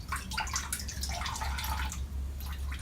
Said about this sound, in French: Ça continue à vider le radiateur.